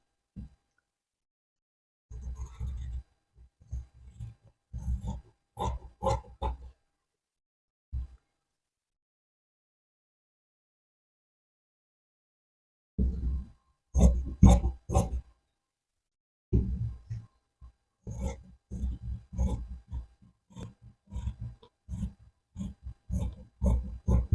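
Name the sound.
scissors cutting churidar fabric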